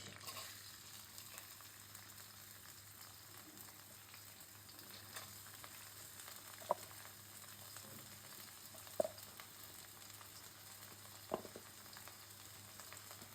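Onion fries in oil for a country chicken and new potato curry, giving a faint, steady low sizzle with a few isolated sharp clicks from the pan.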